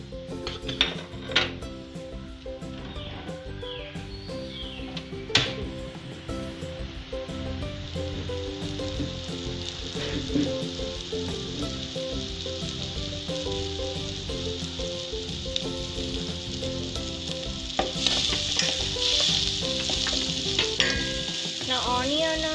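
Onions sizzle steadily in a pan while being made into spicy cutlets, with occasional metal utensil clinks and scrapes, close and continuous, and no talking.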